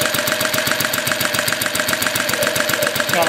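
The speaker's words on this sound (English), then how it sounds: "Got a little belt noise from that timing belt." A generator engine runs steadily at low RPM, its even, rapid mechanical pulsing loud and close, with a faint whining timing-belt noise over the throb and a slight vibration, and no voices.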